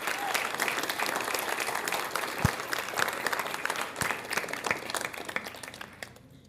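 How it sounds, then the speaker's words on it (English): An audience at a school LCAP meeting applauds in a dense, sustained burst of clapping that fades toward the end. "big applause to you, Sophia."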